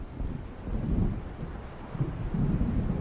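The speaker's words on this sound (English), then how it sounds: "It seems there's a storm coming." Thunder of an approaching storm in Alan Wake Remastered, a low rolling rumble swelling and fading in waves, mixed with wind and a soft wash of rain.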